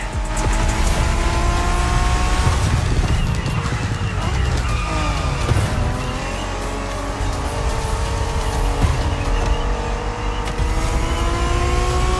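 Japanese street racing cars in The Crew Motorfest roar steadily with revving engines and squealing tires, loud and continuous, while voices chatter over the action.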